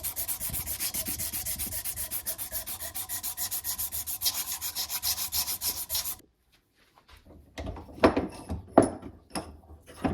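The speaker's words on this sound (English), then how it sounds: "the wood sands down a lot faster than metal" Rhythmic back-and-forth sanding of a wooden bowie knife handle, fast even strokes for about six seconds, then a brief pause before a few sharper scrapes and knocks, close and loud.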